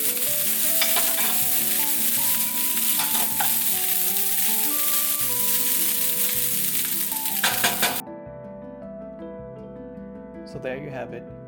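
Bacon fried rice sizzles and scrapes in a hot pan as it is stir-fried, a steady loud frying hiss with clattering utensil strokes over background music until near the end.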